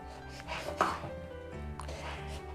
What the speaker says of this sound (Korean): 먼저 이 꼭지를 잘라줘야겠죠